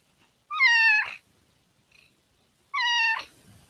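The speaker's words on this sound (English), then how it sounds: "Yeah, she's a nice cat." Two clear, close cat meows spaced about two seconds apart, each a short drawn-out call in an otherwise quiet room, with a faint chirp between them.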